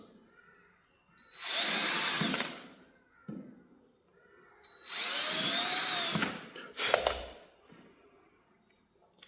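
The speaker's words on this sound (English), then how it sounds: "Let's drill a few pilot holes." A power drill bores pilot holes for closet door hinges in two sustained whining bursts with a short pause between them, followed by a brief knock, close and loud with no talking.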